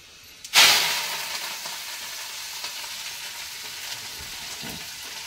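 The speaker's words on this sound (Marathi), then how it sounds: "हे बघा जिरे टाकत आहे मी" Cumin seeds drop into hot oil with a sudden loud burst of sizzling that settles into a steady, close frying hiss, with no voices over it.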